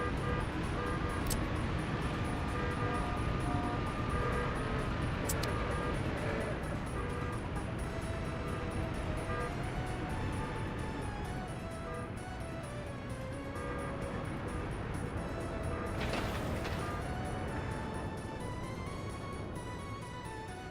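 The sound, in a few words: car traffic in the video game Workers and Resources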